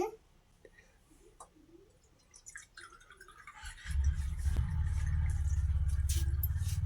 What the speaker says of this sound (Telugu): ఇప్పుడైతే వాటర్ వేసుకుందాము